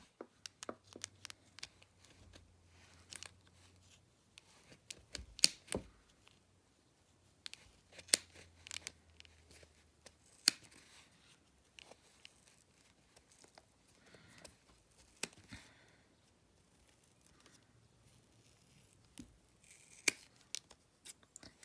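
Scissors snip through wool while a pompom is being trimmed, giving a long run of quick, quiet, close-up cuts in irregular bursts with brief pauses between them.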